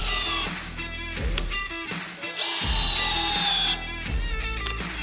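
A cordless drill drives an 80 cm screw, 13 by 800, a loud whining motor that strains and changes pitch across several bursts and short pauses, close up with no talking.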